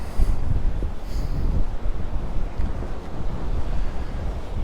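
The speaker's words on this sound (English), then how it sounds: "it's just getting a bit breezy now" Strong coastal wind near Palmanova, Mallorca, buffets the microphone in a steady, blustery roar, with a low rush that may be surf running beneath it. No one speaks.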